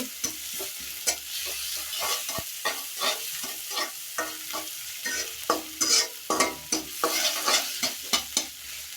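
Small baim fish fry in oil in a pan, with close, steady sizzling and crackling, broken by repeated sharp scrapes and knocks of stirring. No one speaks.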